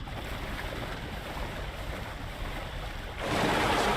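In the Alan Wake 2 video game, water sloshes and churns in a steady broadband wash, then surges louder into a rushing splash for the final second.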